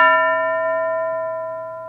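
A single classroom bell is struck once, and its clear metallic ring decays slowly and evenly with sustained overtones, loud and alone with no voices.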